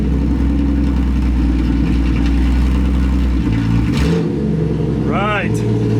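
An inline six-cylinder Mustang with a hole in its muffler rumbles loudly and raspily, close by, its idle shifting as it catches and revs; a voice speaks briefly near the end.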